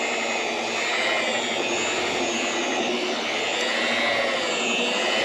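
An Alloyman car buffer polisher whirs steadily at close range while spreading polishing compound over a car's paint, a constant high motor whine with a broad hiss and no talk.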